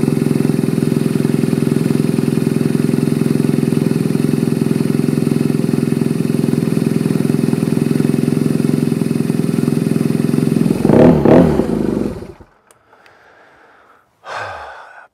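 BMW R nineT motorcycle engine running at a steady, loud idle for about ten seconds, then a brief rev before it cuts off, leaving near silence with a short final burst of noise.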